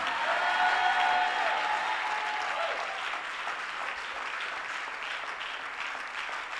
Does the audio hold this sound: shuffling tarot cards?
no